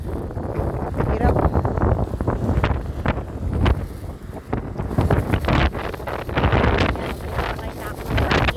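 Strong mountain wind roars against the microphone during a climb, loud gusty rumbling that surges and falls in waves throughout, with a voice speaking faintly underneath.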